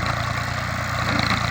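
A tractor engine runs steadily at a low idle-like throb, loud and close, with an even, unbroken drone for the whole stretch.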